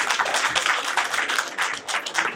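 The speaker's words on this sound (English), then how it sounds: "give him a round of applause anyway" An audience at an awards dinner breaks into dense, steady applause, many hands clapping together loudly and continuously for a few seconds.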